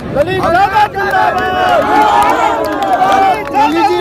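Large crowd at a political rally for a nomination meeting, a dense, loud roar of voices and cheering that fills the whole stretch without a break.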